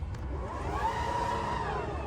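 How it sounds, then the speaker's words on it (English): A Tesla Model X 2024 falcon wing door swings open with a steady electric motor whine that rises slightly and holds for about two seconds, close by and fairly quiet. "Door opens."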